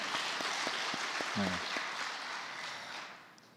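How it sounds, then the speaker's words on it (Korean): A brief burst of applause from a church congregation during an early-morning prayer service, fairly faint and fading out, with a short voice sound in the middle. "예, 박수 치시죠."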